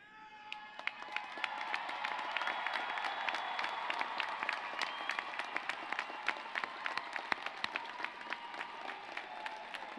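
First-generation college graduates at a CSUN commencement ceremony cheer and applaud, a large crowd producing dense sustained clapping with scattered whoops that swells then holds steady for several seconds.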